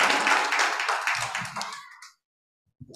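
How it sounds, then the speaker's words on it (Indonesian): Church congregation clapping during a worship service, a short burst of hand claps lasting about two seconds that cuts off abruptly into silence. "Tepuk tangan untuk Tuhan Yesus."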